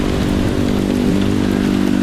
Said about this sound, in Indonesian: itu air hujan